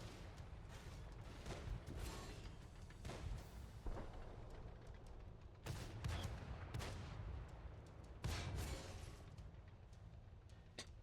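Tank guns firing in the World of Tanks game, several heavy booming shots with sharp cracks spaced a few seconds apart over a rumbling engine and battle background, fairly faint overall.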